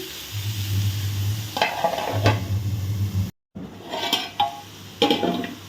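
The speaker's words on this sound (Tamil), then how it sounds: "இந்த கேரட் எல்லாமே நல்லா வதங்கட்டும்." Carrot and egg poriyal sautéing and being stirred in a pan: a steady low sizzle with scraping spoon strokes and clinks, broken by a brief silence before the stirring resumes.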